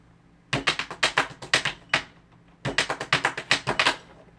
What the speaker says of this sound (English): tapping my pens along to